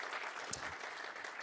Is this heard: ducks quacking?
no